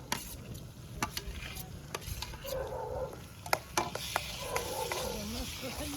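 Roasted eggplant mash stirred into a pan of spices and chili, a steady low sizzle with scattered scraping clicks from the spoon, close and moderately loud, no talking.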